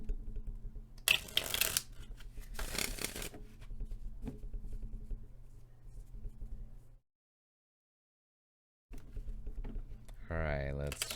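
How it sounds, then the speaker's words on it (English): Tarot and oracle cards riffled in two quick bursts, then handled with soft taps and slides under a low background hum, followed by a short silence and a final crisp shuffle with a faint voice. "let's shuffle these oracle cards"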